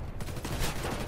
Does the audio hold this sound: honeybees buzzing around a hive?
no